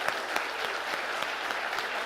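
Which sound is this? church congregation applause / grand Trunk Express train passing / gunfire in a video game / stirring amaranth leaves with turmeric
church congregation applause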